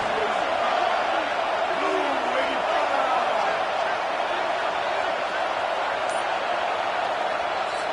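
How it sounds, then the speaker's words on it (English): Steady roar of a packed football stadium crowd at Texas A&M against Michigan on a third down in the red zone, a continuous dense wash of cheering that holds level throughout, with an announcer talking over it. "this crowd is at fever pitch"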